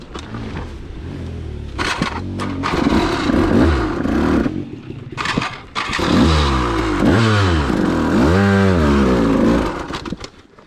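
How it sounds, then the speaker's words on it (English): A dirt bike engine revs hard and repeatedly on a steep rocky trail climb, loud and close, with rising and falling throttle blips and clattering over rocks. "you have to stall your bike there, then you have to restart it and ram the front wheel into that step"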